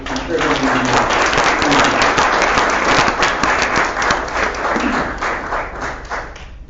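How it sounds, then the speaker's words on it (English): Sustained audience applause for a panel at an evening tech event on 4G and consumer apps, dense steady clapping from a crowd throughout, loud and full. "I want to ask you all to give a round of applause to these people for contributing."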